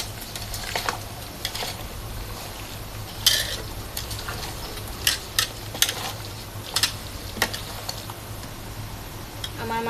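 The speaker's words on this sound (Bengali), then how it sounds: "এখন সবগুলো উপকরণ একসাথে মিশিয়ে নিব। হাতে করে মিশিয়ে দিচ্ছি আমি" Hands mix sacrificial meat with spices, giving soft squelching and irregular sporadic clicks and taps over a steady low background hum, with no talking.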